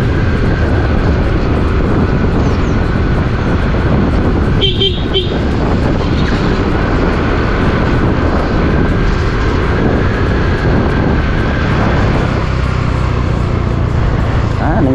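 A motorcycle engine drones steadily and loudly throughout, with wind-like roar and voices talking over it.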